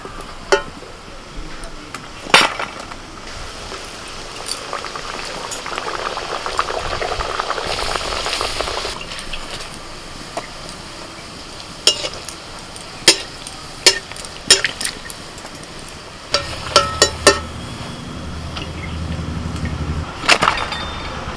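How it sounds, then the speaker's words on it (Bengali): Chatu kachuri, large homemade stuffed puris, sizzle and bubble steadily in hot oil, with occasional clinks and taps of a utensil turning them as they puff up. "দু পিঠ উল্টে পাল্টে নিয়ে লাল করে ভেজে নিতে হবে।"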